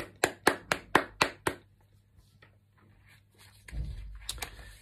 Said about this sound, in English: Maybe give yourselves a round of applause.